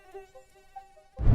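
A mosquito buzzes with a thin, high whine that wavers in loudness over about a second, faint and alone, before a sudden burst of louder noise cuts in.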